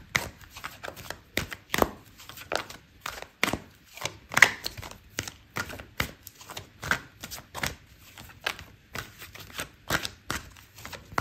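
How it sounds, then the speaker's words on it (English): Tarot cards shuffled and handled during a love reading, a long run of quick papery riffles and slaps in an irregular rhythm, close and fairly loud, with no talking. "I'm gonna pull out another card for you."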